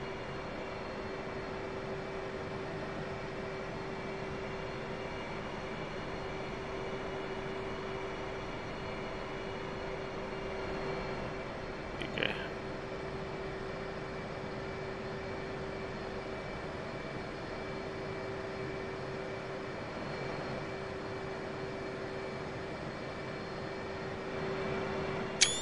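An F/A-18C Hornet jet idling and taxiing at night in DCS World, a steady low engine drone with a constant whine running throughout, with a couple of brief clicks and no talk.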